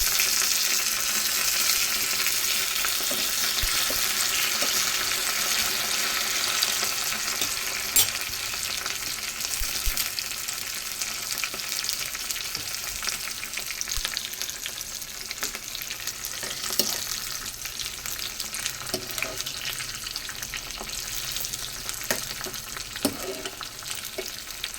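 A South Indian tempering with curry leaves fries in hot oil until browned, giving a loud, continuous hiss that slowly eases, with occasional pops and spoon clicks in the pan.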